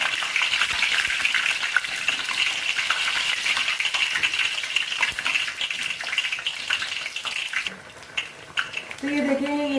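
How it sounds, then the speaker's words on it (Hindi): Bread pakora, filled with potato and cheese, fries steadily in hot oil over a medium flame, a continuous bubbling sizzle that thins briefly near the end, where a voice talks over it. "बिल्कुल मीडियम फ्लेम पे फ्राई किया है।"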